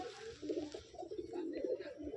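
Madras breed breeder pigeons coo nearby in soft, rolling, repeated calls that overlap one another continuously and quietly, with no talking.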